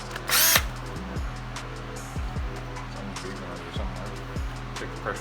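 A power tool spins out the clutch pressure plate bolts on a Harley, with a sharp high whir at the start followed by several short, close impact bursts in the workshop.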